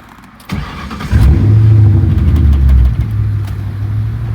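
A high-mileage New Edge Ford Mustang turns over and fires up close by, a brief crank followed by a loud catch and a steady rumbling idle that settles slightly lower.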